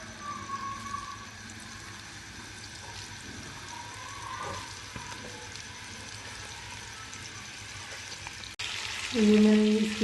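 Chicken frying in about three tablespoons of ghee for dhaba-style karahi, a steady soft sizzle across the whole stretch, with a brief louder clatter and hiss near the end.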